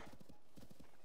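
A horse's hooves clip-clop in a quick, even rhythm in the game The Legend of Zelda: Tears of the Kingdom, faint but clear, several steps in about a second.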